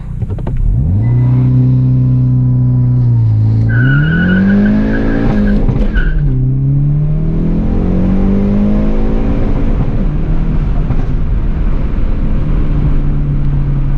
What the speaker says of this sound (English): Well, that was a lot of tire spin.